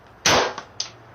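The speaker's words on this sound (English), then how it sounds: "stop shooting the homie" Gunshots from a police encounter video played during a reaction, one sharp loud crack followed by two quicker, smaller reports within about a second, with no voices over them.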